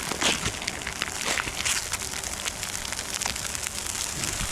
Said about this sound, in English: It's got to rain at most inopportune times